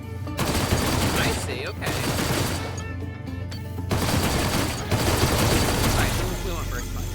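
Spaceship weapons in a space video game fire in linked mode, a dense rattling burst of shots running almost continuously across the clip with only brief gaps, loud and close, while a voice speaks briefly over it.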